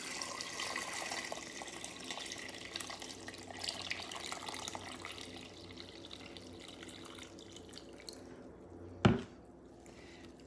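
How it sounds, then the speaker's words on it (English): Water runs steadily into a pitcher while making a brine with lime, a soft continuous trickle and hiss that fades near the end, then a single sharp knock. "Then I'll fill this pitcher up again, which is the 2nd gallon"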